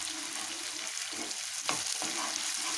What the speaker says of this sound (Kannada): ಶುಂಠಿ ಬೆಳ್ಳುಳ್ಳಿ ಪೇಸ್ಟ್ನ ಹಾಕೊತಾ ಇದ್ದೀವಿ ಒಂದು ಸ್ಪೂನ್ ಈಗ ಚೆನ್ನಾಗಿ ಮಿಕ್ಸ್ ಮಾಡ್ಕೊತಾ ಇದ್ದೀವಿ